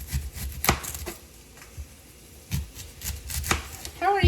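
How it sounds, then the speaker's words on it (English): Knife chopping an onion on a cutting board for beef enchiladas, a series of sharp, irregular close taps with pauses between, in a home kitchen with faint background noise. "So now we're gonna cut up our onion."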